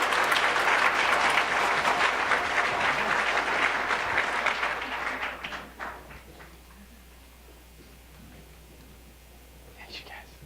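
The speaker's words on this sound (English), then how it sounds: "Big round of applause for everything" Audience applause at a community college excellence prize ceremony, loud dense crowd clapping for about five seconds that fades into quiet room murmur, with a few scattered claps near the end.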